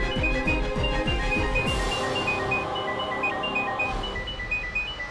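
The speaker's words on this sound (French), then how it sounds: "Frère, ton téléphone sonne." A mobile phone rings with a repeating electronic ringtone, steady and fairly loud, over low background sound in a domestic drama scene where the caller is the mother.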